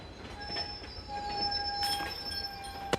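A train rolls past beside a disc golf course, its wheels squealing in high sustained tones over a steady rumble, close and fairly loud throughout.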